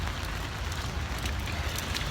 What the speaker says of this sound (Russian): Дождь сильно льет.